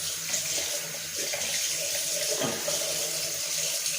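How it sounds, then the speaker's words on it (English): Tap water runs steadily into a sink while a clogged Gillette Mach 3 razor is rinsed under it, a close, continuous splashing hiss with small shifts in the flow. "As you can see, it's clogged. So I'll rinse."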